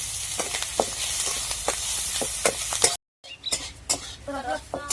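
Onion is stirred in oil in a pan, with rhythmic scraping and clinking of a spoon against metal and a light sizzle; a brief dropout interrupts midway, after which a voice is heard under the stirring.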